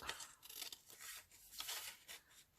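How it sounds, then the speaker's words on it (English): Paper being cut and trimmed down with scissors for a handmade collage, giving a quick run of close, crisp snips and rustling paper sounds. "So I'm just going to cut this down a bit more"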